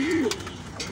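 A pigeon gives a short, close coo in a breeding room, a low warbling call at the start followed by soft rustling.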